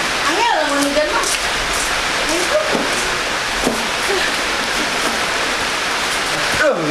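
Steady rain falls as a constant broadband hiss, with voices talking over it and brief tonal sounds rising above the wash.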